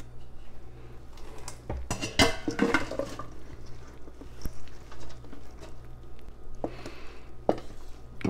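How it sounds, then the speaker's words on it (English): Large metal cooking pan handled in a kitchen while making zucchini relish for water bath canning, a burst of clanking and clattering metal knocks, then sparse clinks, close and moderately loud, no talking. "Otherwise, I get my monster pan out."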